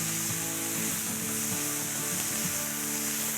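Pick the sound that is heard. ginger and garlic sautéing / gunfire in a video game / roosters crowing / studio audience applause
ginger and garlic sautéing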